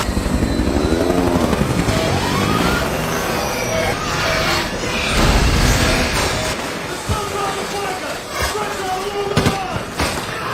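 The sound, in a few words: helicopter in a movie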